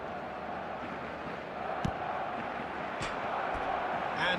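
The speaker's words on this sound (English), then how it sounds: "the crowd are reacting to that now" A stadium crowd in a FIFA football video game gives a steady, dense roar that swells slightly toward the end, with a few sharp thumps rising above the wash of noise.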